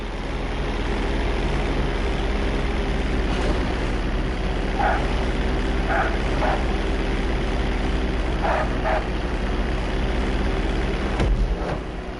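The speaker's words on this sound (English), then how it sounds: "Slow your approach as you descend onto the road. If you touch down smoothly, your plane is gonna stop pretty fast." An airplane in GTA comes down onto a road, with a steady loud propeller-engine drone and wind roar throughout, a few faint clanks and thumps midway, and a short rattling bump near the end.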